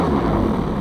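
The engine of an Extreme Flight 74-inch Laser RC model airplane idles in a brief, steady, fairly loud low drone with a rough mechanical texture and no talking.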